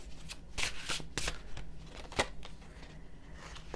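Tarot cards are shuffled and drawn in a series of quick papery riffles and soft snaps, close by and fairly quiet, arriving in uneven bursts with brief pauses between.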